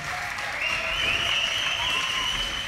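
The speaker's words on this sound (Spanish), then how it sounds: "así que primer aplauso, por favor" Audience applause at a League of Legends grand final esports event, a steady dense wash of clapping from a large crowd sustained throughout, with faint tonal music or effects underneath.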